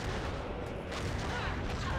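Cannon fire in the Treasure Planet video game, a steady roar of overlapping booms and blasts filling the short stretch with no clear gaps.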